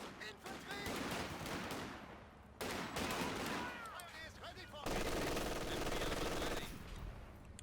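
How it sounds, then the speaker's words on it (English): Machine gun bursts and scattered gunfire fill a Company of Heroes 2 battle with a .50 cal and MG42 in action, loud rattling volleys in several close bursts overlapping continuously. "The 50 cal machine gun behind it, though, is getting some bursts going, trying as best they can."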